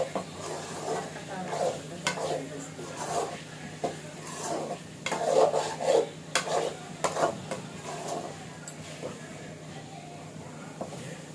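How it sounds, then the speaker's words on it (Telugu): Curry leaves are dropped into a simmering mutton liver curry, raising a steady sizzle and frying crackle. A spoon stirs and scrapes the pan in uneven bursts, loudest in the middle, close up with no talking. "ఇప్పుడు కరివేపాకు వేసుకుందాము"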